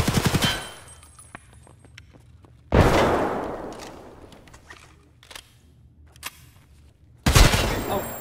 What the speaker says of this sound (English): I almost shot the fuck out of you